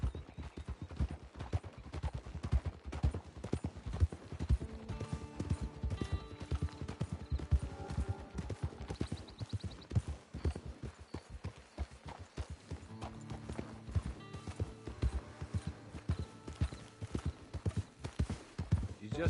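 Steady clip-clop of horse hooves at a walking pace in the video game Red Dead Redemption 2, fairly close, with music playing underneath throughout.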